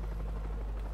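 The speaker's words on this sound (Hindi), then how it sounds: "हेलीकॉप्टर, हेलीकॉप्टर ये रहा हमारा।" A helicopter in the zombie shooter World War Z, heard from the helipad as a loud, steady, close rotor drone filling the whole moment.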